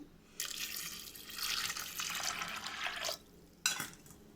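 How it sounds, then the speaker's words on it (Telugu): Water pours into a pot of washed chana dal, a steady splashing stream that runs for about three seconds, cuts off, then returns in one brief burst, close by with no talking. "వాటర్ వేసుకుందాము."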